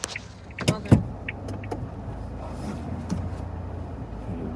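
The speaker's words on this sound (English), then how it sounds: "Impressed that I was able to turn the car around." A car turns around in a parking area in Japan, heard from inside the cabin as a low, steady engine rumble with a couple of soft knocks and clicks near the start.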